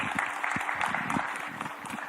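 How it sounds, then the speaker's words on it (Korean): A school audience at a disability-awareness talk concert claps in welcome. The applause is moderate and fairly sparse, with individual claps standing out, and no talking over it. "박수로 우리 모시겠습니다."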